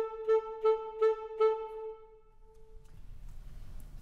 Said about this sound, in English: Note that you cut off with your breath sounds like this.